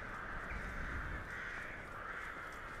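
Crows caw steadily in a video game scene, a soft continuous cawing under faint ambient background noise with no talk.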